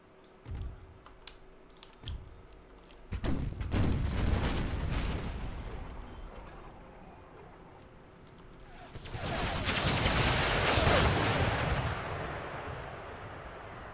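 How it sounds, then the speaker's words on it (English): Artillery barrage in Empire: Total War with an American Civil War mod, heavy booming cannon fire swelling into sustained rumbling volleys, loud and dense, with a quieter gap between two surges. "let the artillery barrage begin"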